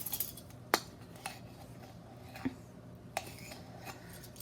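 A metal measuring teaspoon scoops baking powder for quick bread, with a few light clinks and taps against a container scattered over a quiet kitchen background.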